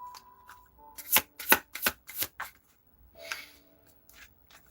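Tarot cards are shuffled and riffled in several quick crisp bursts close by, followed by softer card handling and faint tapping.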